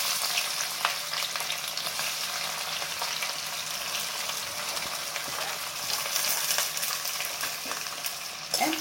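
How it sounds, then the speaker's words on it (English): Three large onions fry with a cinnamon stick, cloves and stone flower in a pan for mutton rogan josh, giving a steady, close, dense sizzle with occasional stirring clinks and no talk. "fry these onions until golden brown, literally golden brown"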